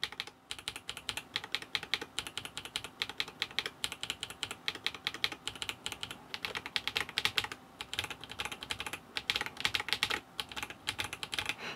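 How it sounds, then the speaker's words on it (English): Fast steady typing on an Akko 5075B wireless keyboard fitted with yellow and blue switches, a dense stream of close, crisp key clicks and clacks continuing without pause. "So you can hear a very slight click on the blue ones."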